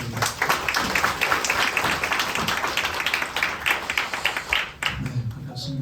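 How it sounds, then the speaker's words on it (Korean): A church congregation at a dedication service applauds to welcome the pastor, a dense, sustained wash of many hands clapping across the room that thins briefly near the end before swelling again. "모실 때 큰 박수로 모시겠습니다."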